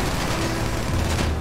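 Sustained spray of automatic gunfire aimed at a car in Grand Theft Auto V, a dense, unbroken rattle at close range heard on its own.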